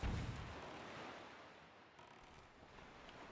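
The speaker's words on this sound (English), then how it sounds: "Whoa, exploding barrel!" An exploding barrel in the Zelda: Wind Waker game bursts with a loud booming blast right at the start, then settles into a rumbling wash of sea and wind noise.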